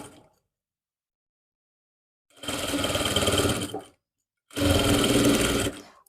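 A sewing machine stitches a suit in two steady runs of about a second and a half each, separated by a pause, close and loud with no talking.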